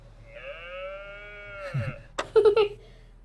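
Cattle moo in the video game That Dragon, Cancer: one long, drawn-out low call, then a few short, louder animal bursts close together near the end.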